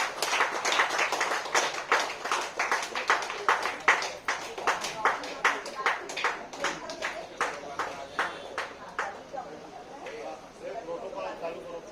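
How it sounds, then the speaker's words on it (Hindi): Hearty applause welcoming a guest at a BJP district International Yoga Day 2022 event in Rajnandgaon, a steady stream of dense clapping that gradually thins and softens toward the end, with some voices mixed in. "जोरदार ताली के साथ हार्दिक स्वागत"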